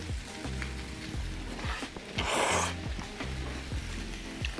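Spring onions stir-frying in a wok for chicken chow mein, soft sizzling under repeated metallic clanks of a spatula against the wok and a brief louder hiss surge midway.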